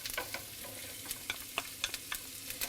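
Chopped onion, about half a cup, sizzles in melted unsalted butter in a pan, a steady close frying hiss with scattered crackles and the light scrape of stirring.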